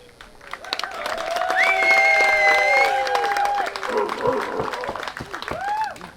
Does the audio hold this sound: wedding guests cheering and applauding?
yes